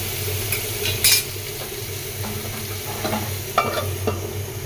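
Vegetables stir-fry in a pan, a close, steady sizzle broken by scraping strokes of a spatula and a few metallic clinks.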